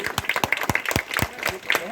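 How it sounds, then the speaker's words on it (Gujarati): A crowd at a Congress election campaign gathering in Valsad claps to welcome the party's candidate, with a string of sharp, fairly close claps mixed with voices. "જોરદાર તાળીથી આપણે એમને વધાવીએ"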